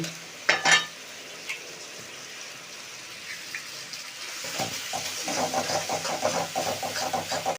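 Egg goes into frying tarka masala with a sharp clatter, then a low sizzle builds under rhythmic stirring and scraping in the pan.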